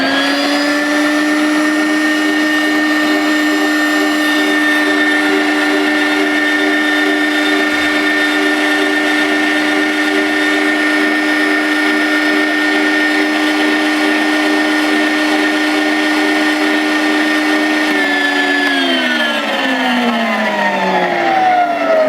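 A WonderMix grain mill grinds hemp into fine flour with a loud, steady, high-pitched motor whine that holds constant for about eighteen seconds, then drops in pitch as the mill spins down near the end.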